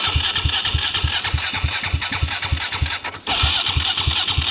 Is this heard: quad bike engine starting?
yes